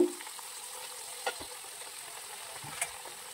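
Potato chips fry in oil with a soft, even sizzle, quiet and continuous, broken by a couple of faint clicks.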